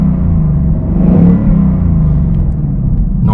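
A 2021 Ford Mustang Mach 1 exhaust in quiet mode gives off a loud, steady low rumble with a gentle swell partway through, heard alone without talk.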